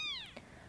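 A kitten gives one short, high descending meow, clear and close, followed by quiet room tone.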